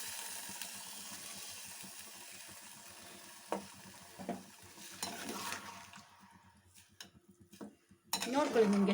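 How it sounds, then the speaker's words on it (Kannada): Masala water poured into a frying pan for masala puri, then stirred: a sizzling wash under scraping spoon strokes and metallic pan clatter, with louder clanks near the end. "ಮಿಕ್ಸಿ ಜಾರಲ್ಲಿ ಮಸಾಲೆ ಇತ್ತಲ್ಲ, ಅದಕ್ಕೆ ಸ್ವಲ್ಪ ನೀರು ಸೇರಿಸಿ ಆ ನೀರನ್ನು ನಾನು ಇದಕ್ಕೆ ಹಾಕ್ತಾ ಇದ್ದೀನಿ"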